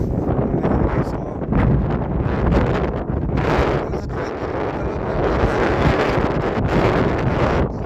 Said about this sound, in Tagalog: Ayan, grabe yung hangin.